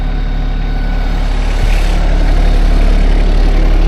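A tractor engine idling close by, a loud, steady low rumble with an even mechanical throb that holds constant and grows slightly stronger toward the end, with no voices over it.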